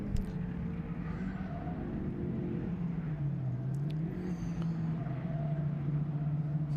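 Rallycross cars racing at Mondello Park, a distant engine rising and falling in pitch as it revs through corners over a low steady rumble.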